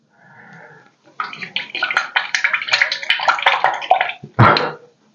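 Water swishes and splashes in quick bursts as a paintbrush is swirled around in a small container of water nearby, ending with a louder splash.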